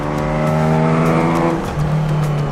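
A Ford Capri accelerates hard around a race track, a close, loud engine note climbing through the revs, dipping briefly at a gearchange, then pulling again.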